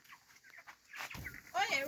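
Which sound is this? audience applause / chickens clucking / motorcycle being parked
chickens clucking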